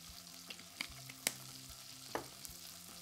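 Sausage and peppers sizzling in a pan, a steady faint hiss broken by a few sharp pops and clinks from stirring, with no speech.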